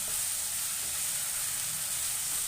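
Onion and spices sizzle steadily in a hot pan, a close, continuous frying hiss with no talk, cooking for a hotel-style Bombay sagu side dish.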